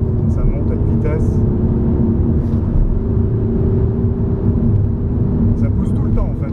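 A Peugeot 309 GTI engine pulls hard in gear with a steady loud rumble from inside the cabin, while someone talks over the drone.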